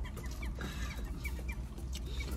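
Chickens cluck outdoors with a series of short, clipped calls scattered over a continuous low background rumble, fairly faint and without voices.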